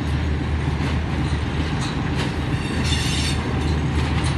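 A locomotive-hauled express pulling into Rohri Junction railway station, hauled by an RGE-20 diesel engine: a steady loud rumble of rolling stock and engine, with rail clatter and occasional high wheel squeals throughout, no talk.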